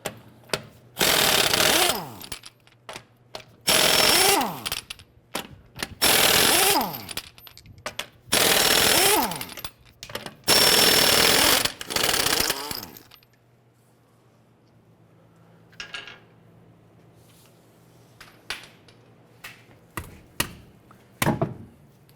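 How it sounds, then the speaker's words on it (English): Impact wrench with a 22mm socket loosening lug nuts on a 2009-2015 Honda Pilot wheel: five loud, rattling bursts of a few seconds each, then a quieter pause and a few sharp clanks. "Using our 22mm socket, we're going to loosen and remove our lug nuts."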